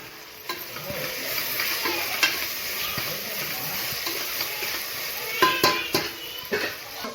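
Tomatoes frying with ginger-garlic paste in a pot for bagara rice, a steady soft sizzle broken by scraping and clinks of a spoon stirring against the pan, close and moderately quiet.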